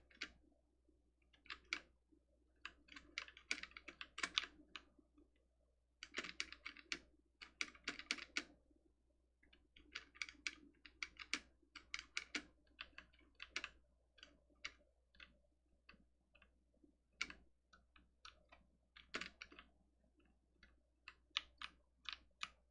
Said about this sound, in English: Those are very loud keys, sadly.